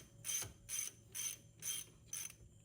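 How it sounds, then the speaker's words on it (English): A ratchet tightens a bolt during front brake pad replacement on a 2014 Jeep Patriot, giving five clear bursts of clicking in a steady back-and-forth rhythm, close and alone. "get your ratchet to go the opposite way"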